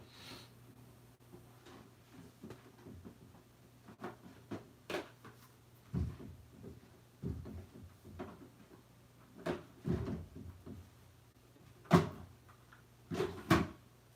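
Makeup storage drawers in a home opened and shut, a series of short wooden knocks and slides spread out at irregular intervals, with a low steady hum underneath.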